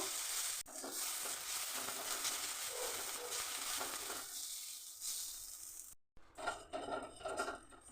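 Washed gobindobhog rice fries in ghee in a hot wok with a continuous close sizzle. After a brief cut near the end, stirring scrapes and clinks of a utensil against the metal follow.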